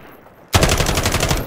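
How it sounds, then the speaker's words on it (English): A submachine gun in a video game cuts in suddenly with a loud, rapid burst of automatic fire that runs unbroken to the end. "New submachine gun."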